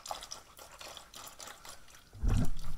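Coolant drains from a 2020 Subaru WRX radiator, with light dripping and trickling at first, then a heavier splash and slosh of liquid hitting the catch surface near the end, close by.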